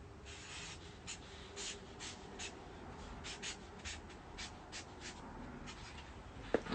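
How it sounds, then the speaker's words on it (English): Marker or pen writing the word positive on a surface, a quiet run of short scratchy strokes with brief pauses, close and faint, no talk. "So I'm gonna write the word positive."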